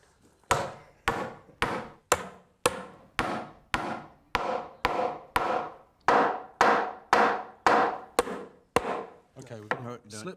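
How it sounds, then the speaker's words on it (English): A lump hammer drives nails into wooden boards while a medieval-style ship is built: about seventeen loud, evenly paced strikes, each with a sharp crack and a short ringing decay, and a brief scrape of handling at the end. "What we need now is the lump hammer."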